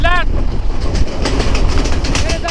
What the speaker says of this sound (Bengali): চলে যাচ্ছে সিলাট এক্সপ্রেস ট্রেন